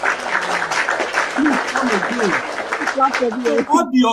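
Clapping sound effect played under a talking voice, with rapid applause-like patter running beneath continuous speech for the whole stretch.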